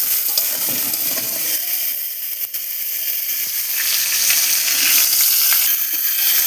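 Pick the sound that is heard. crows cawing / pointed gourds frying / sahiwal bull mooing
pointed gourds frying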